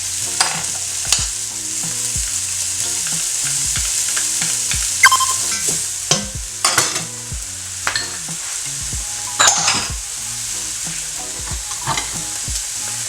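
Garlic frying in a hot pan while green beans are being cooked, with a steady bright sizzle throughout, broken by repeated close knocks and scrapes of stirring.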